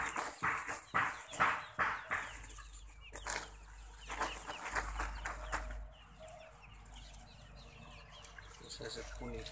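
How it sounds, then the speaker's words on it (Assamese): Local hens on a farm in Assam cluck in a quick run of bursts while being fed rice bran, close at first, then quieter with low background hum and a voice talking faintly. "আজি আমাৰ ফাৰ্মত মুৰ্গীখিনিক পুনি দিবৰ কাৰণে লৈছোঁ।"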